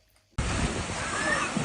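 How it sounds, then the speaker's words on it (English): Rushing water roars loudly and continuously down an extreme water slide at a resort in Punta Cana, starting abruptly after a quiet moment. "Here we are going down one of the extreme water slides."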